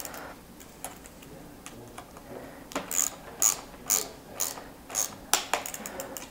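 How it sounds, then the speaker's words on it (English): Ratcheting clicks from a torque wrench tightening the bottom two stem bolts on a new bicycle with an Easton stem, in short irregular bursts of crisp ticks, close and fairly quiet, with no talking. "then tighten and torque the bottom two bolts."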